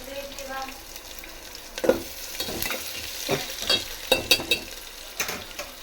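Ingredients for an herbal rasam sautéing lightly in a pan, a soft steady sizzle broken by scraping stirs and a few sharp utensil clicks against the pan.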